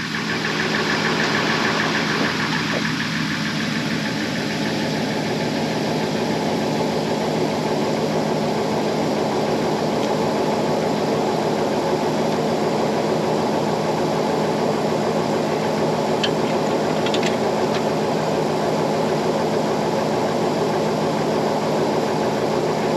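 A Timberjack skidder's engine runs at a steady idle, a close, continuous diesel rumble with a knocking vibration and a faint high whine, unchanging for the whole stretch.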